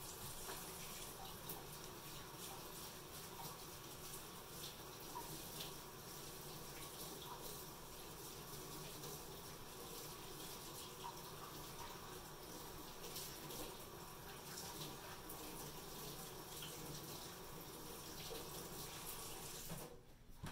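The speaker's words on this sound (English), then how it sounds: "I'm just going to wash my hands because I will be dealing with this cookie dough by hand." Tap water runs steadily into a kitchen sink while hands are washed before mixing chocolate chip cookie dough by hand, a continuous close rushing splash that cuts off abruptly at the end, with no speech.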